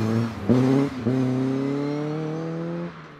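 A Caterham Seven 420 Cup engine revs hard through a couple of quick gearshifts, then pulls in one long rising, rasping drone that fades off at the end. It is loud and close, with no voices.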